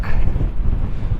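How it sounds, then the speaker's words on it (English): Strong wind gusting across the top of the Montaña Roja volcano crater, buffeting the microphone with a loud, low, rumbling roar that surges throughout, with no speech. "And there's a few people up here, believe it or not, but it's so windy."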